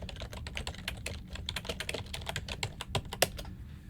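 Rapid, steady typing on a computer keyboard, close and fairly quiet, with dense irregular key clicks running throughout and no voices.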